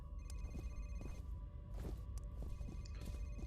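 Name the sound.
office telephone ringing in F.E.A.R. video game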